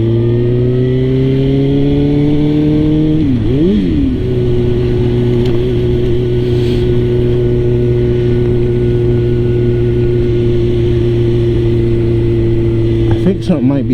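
A 2006 Suzuki GSX-R 1000 sportbike engine drones loud and steady while riding, pitch dipping and climbing briefly early on before holding an even cruising tone, with wind rushing behind.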